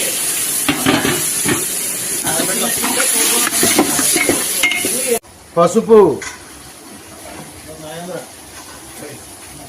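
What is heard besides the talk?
water added to sizzling prawn and fenugreek curry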